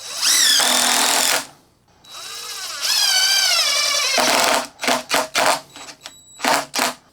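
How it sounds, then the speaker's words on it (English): A DeWalt impact driver whirs up to speed and hammers screws in, with long sustained rattling runs followed by several short bursts of trigger pulls. "let's go ahead and get a battery on this and we'll start driving just a couple of screws"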